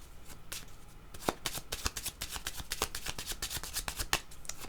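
Tarot cards are shuffled in a steady run of crisp riffling flicks and soft slaps, close and fairly quiet, with no voices.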